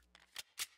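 A gun is reloaded in the VR game Hot Dogs, Horseshoes & Hand Grenades, giving three quick, close mechanical clicks and slides with no other sound.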